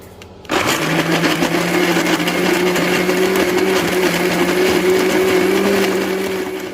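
An electric blender grinding peanuts and palm sugar, switching on abruptly after a brief quiet moment, then a loud, steady motor whine that holds for several seconds and eases slightly at the end.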